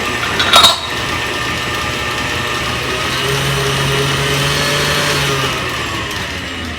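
An electric mixer blends eggs for a caramel flan batter, a steady motor whir running continuously after a brief clatter at the start, with no talking.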